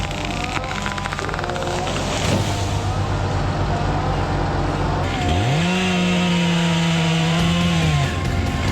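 A chainsaw runs steadily at the edge of a pasture, cutting a hinge into a leaning walnut tree, its engine droning loud and close, then revving up into a higher sustained whine for a few seconds near the end.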